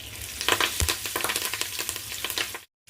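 Curry leaves and turmeric hit hot oil with a close, crackling sizzle and rapid spattering pops, then the sound cuts out abruptly.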